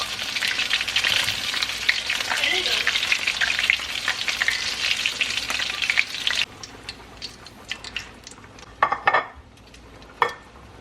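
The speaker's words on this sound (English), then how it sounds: "So while the chicken is frying" Steady, dense sizzling of chicken frying in hot oil in a pot fills the first part, then fades to quieter crackles with a few clinks of utensils or pans.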